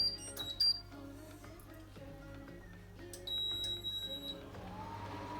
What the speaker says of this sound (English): Mine actually beeps when the oven's ready